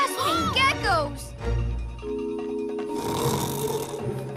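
A cartoon character snores in a children's superhero show with a dinosaur theme, with drawn-out wheezing breaths mixed with voices and music. A lower rumbling snore swells near the middle before other busy sound returns.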